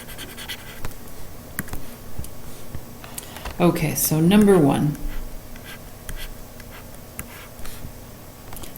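A red pen scratches across graph paper in a short burst of writing strokes, close and fairly clear, with a brief spoken remark nearby and quiet room tone before and after.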